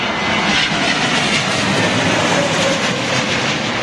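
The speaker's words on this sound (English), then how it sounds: "Yeah, nice howling Leap 1A engines" A Lufthansa A320neo jet with LEAP-1A engines howls loud and steady as it arrives at London Heathrow in stormy wind, a continuous broadband roar with gusty noise and no break.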